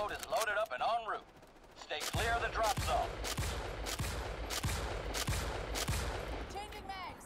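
Gunfire in Starship Troopers: Extermination: a sharp, evenly spaced series of about ten loud shots, with voices talking over the first part.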